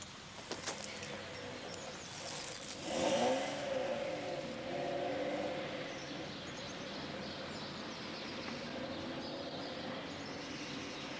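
Car engine revs in a drama scene, a swelling roar rising and fading over a few seconds, then settling into a lower steady drone.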